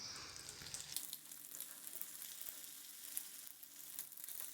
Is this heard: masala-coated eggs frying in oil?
yes